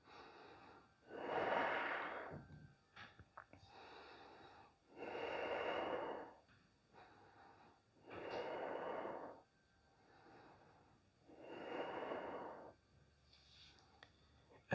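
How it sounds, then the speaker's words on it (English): Slow, deep breathing in a yoga practice for runners, heard as five even, airy breaths close by, each lasting about two seconds with short quiet gaps between, steady in rhythm and otherwise unaccompanied. "Three more deep breaths here."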